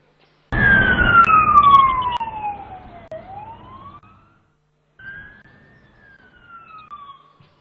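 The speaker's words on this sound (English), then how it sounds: "what you just heard was the siren because time is up." A loud electronic siren sounds to mark the end of session time at a youth event, wailing with a falling pitch, then a brief rise and a fainter second tone, heard alone.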